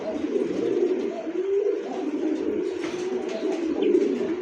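Pigeons, including a female racer, cooing continuously in a loft, a steady low murmuring drone with overlapping coos, moderately close and without talk.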